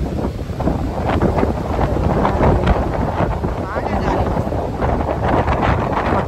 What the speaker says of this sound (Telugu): మొత్తం గాలి అనమాట